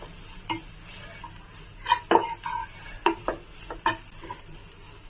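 A spoon stirs grated carrot with salt, turmeric and chili powder in a metal pan, making a series of sharp scrapes and clinks in an irregular rhythm over a faint sizzle.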